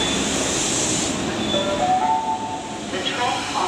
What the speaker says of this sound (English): As soon as we purchased our ticket, the train had arrived.